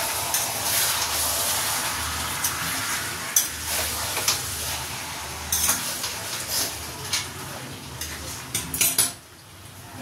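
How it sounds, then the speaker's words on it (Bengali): Chicken with fried potatoes is sautéed without water in a pan. A utensil clinks and scrapes against the metal in irregular strokes over a constant hiss, and the sound cuts off near the end. "এই যে এখানে চিকেন কষাচ্ছি"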